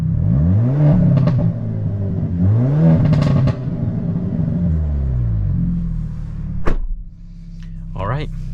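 A 2023 Hyundai Elantra N revving and pulling through gears on a drive, its engine note climbing and dropping in repeated sweeps, close and loud, with a brief clunk near the end.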